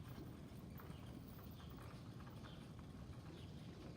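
A horse's hooves clip-clop steadily during a riding lesson, a continuous, fairly faint patter of hoof falls over a low background rumble, with no talking.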